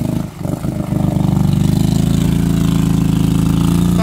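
A Kawasaki Brute Force 750 ATV engine idles steadily off-road near water, a loud, close, even rumble. A brief dip comes near the start, then the engine holds a constant running note throughout with no voices.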